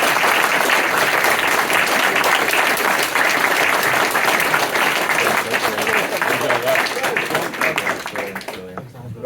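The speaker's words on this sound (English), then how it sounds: "join me in thanking him. Give a round of applause for Steve Pickford." Loud, sustained audience applause after a talk at a gaming event, with dense clapping that fills the whole stretch before tapering off at the end.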